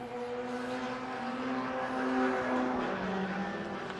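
A Renault Clio race car in the Club Pro class, driving on the Knockhill circuit with its engine droning steadily and rising slightly in pitch as it runs near, with no one speaking.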